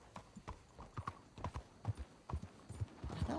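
Horse hooves clip-clopping in the video game Red Dead Redemption 2, a quick, even walking rhythm of soft thuds, fairly close and moderately quiet, with faint background ambience.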